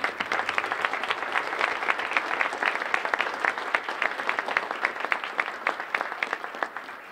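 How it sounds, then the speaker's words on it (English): A crowd at a Good Morning Metro South community breakfast program applauds steadily to welcome a speaker, dense overlapping claps filling the room at an even, sustained level for several seconds without talk. "Please make him feel welcome by giving him a big round of applause."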